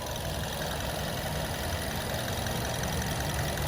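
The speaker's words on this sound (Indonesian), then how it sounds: "Suara mesinnya juga sangat halus" A 2011 Mazda 2 hatchback with an automatic transmission idles steadily, its low, even engine hum and faint mechanical ticking continuing unchanged at close range with no talk.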